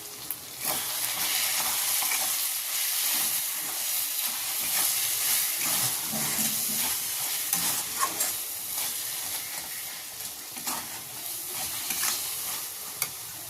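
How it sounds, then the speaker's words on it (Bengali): Kashmiri chili, cumin and coriander powder stir-fried in a pan for motor shuti ghugni give a steady close sizzle with repeated spatula scrapes and taps throughout, no talk. "এই সবগুলো ভালো করে নাড়াচাড়া করে ভেজে নেবো যাতে মশলার গন্ধ না থাকে"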